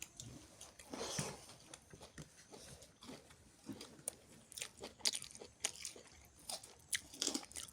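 Close, soft crunching and chewing of banana stem curry with fish, irregular bites and mouth sounds continuing steadily with no talk.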